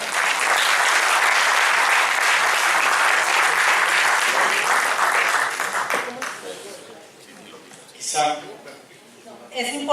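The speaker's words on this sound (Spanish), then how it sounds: "los recibimos con un fuerte aplauso." Conference audience gives a strong round of applause to welcome speakers, dense and loud for about six seconds before fading into scattered claps and a few voices.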